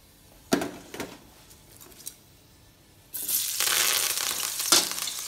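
Onion, curry leaves and chillies hitting hot oil for a spicy bread fry, with a few quiet knocks first and then a loud, steady hiss of frying that holds to the end, no voices.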